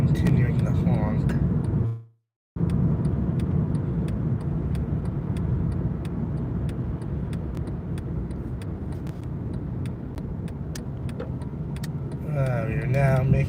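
A car driving and turning into an apartment complex, its road noise and engine a steady nearby drone from inside the cabin, with a brief cutout near the start and a person talking at the beginning and end.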